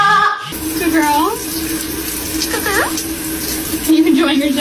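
Water runs steadily over a parrot during its shower, a continuous hiss close by throughout, with a few chirps and squawks from the bird and someone speaking over it.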